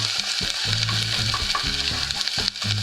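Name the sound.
garlic frying in a pan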